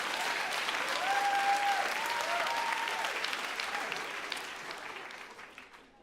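A crowd applauds steadily for several seconds, dense clapping that swells early and then gradually fades out, with a few indistinct voices mixed in.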